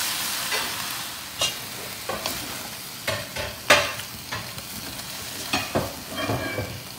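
Beef and chayote squash tops stir-frying in a pan, with repeated sharp scraping stirs and clanks over a steady background sizzle, close and fairly loud with no talk.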